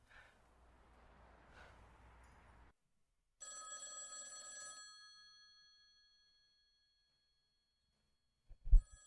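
A payphone rings once in a short, bright electronic burst after a quiet stretch of low rumble, then falls silent before a dull thump.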